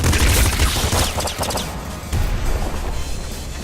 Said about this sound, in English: It's basically just a rifle that bounces bullets with automatic fire.